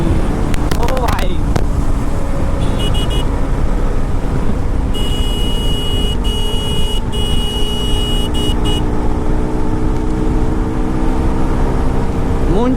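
A motorcycle runs at speed on a road, its engine noise a loud, constant roar throughout, with brief horn-like tones and someone talking over it.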